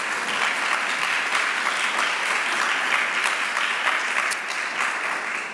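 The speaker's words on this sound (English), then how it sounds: "give a round of applause for our panelists." Sustained applause from a conference audience greeting panelists at a sustainability technology event, steady and dense clapping filling the room throughout without pause.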